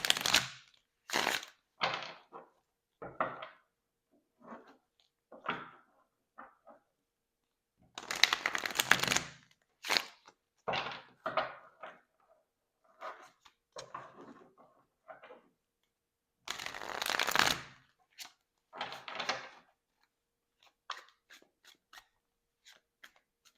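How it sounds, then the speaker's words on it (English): Tarot cards are shuffled in repeated riffling bursts with short pauses between them. The sound is close and crisp. "Let me shuffle a little bit."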